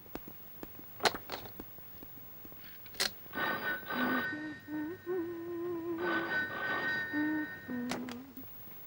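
Telephone ringing indoors: a sharp bell-like electronic ring repeats in two bursts with a pause between, over faint room noise and a few clicks or footsteps.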